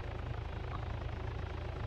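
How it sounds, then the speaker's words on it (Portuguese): A helicopter in the military game Arma 3 drones continuously, its low, rhythmic rotor thump steady and fairly distant, with no voices over it. "tô ouvindo um helicóptero por aqui, mano."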